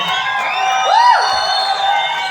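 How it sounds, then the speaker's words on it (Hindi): A crowd in an event hall shouts and whoops loudly, with a rising and falling whistle cutting through the cheering, all fairly close and continuous. "सीटी मारना चिल्लाना किसको आता है?"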